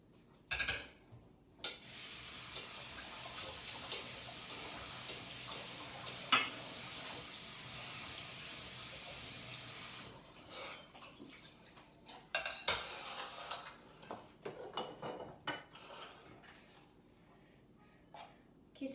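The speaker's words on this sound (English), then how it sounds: "So first thing we're going to do is we're going to wash these potatoes." Potatoes washed under a running kitchen tap: a steady hiss of water pours for several seconds, then stops, followed by scattered close clatters and splashes of handling in the sink.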